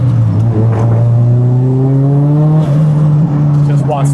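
Nissan S14 Rocket Bunny drift car engine revving loud and close, a steady throaty drone rising and holding through the upper RPM range with crisp throttle response.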